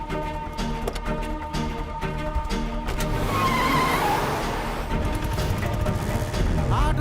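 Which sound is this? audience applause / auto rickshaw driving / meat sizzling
auto rickshaw driving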